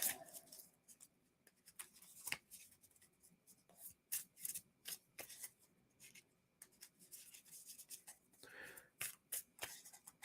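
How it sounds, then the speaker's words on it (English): A deck of game cards is shuffled close by, with quick, quiet riffling and rubbing bursts repeating in an irregular rhythm and no talking. "Shuffle up."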